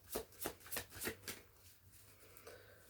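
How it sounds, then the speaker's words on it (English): Tarot cards being shuffled by hand in a quiet room, a run of five crisp riffling bursts at a steady beat, then fading to faint soft handling. "Shuffling is slow today."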